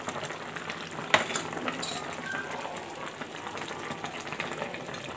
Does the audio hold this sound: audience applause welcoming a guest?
no